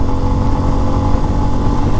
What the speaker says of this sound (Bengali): টপ গিয়ারেও দেখছেন নিচে থেকে স্পিড কিরকম উপরে উঠতেছে